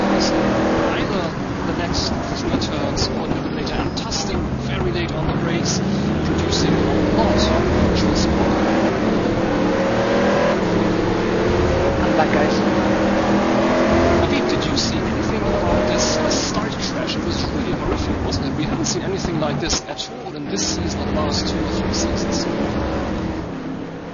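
Race car engines in a sim racing touring car round at Algarve: sustained loud engine drone with rising and falling revs and gear shifts, under continuous talk throughout.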